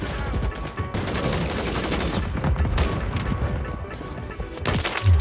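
Rapid gunfire from a weapon in a first-person shooter video game, dense bursts of shots running nearly the whole time over game noise, loud and close, with a heavier blast at the end.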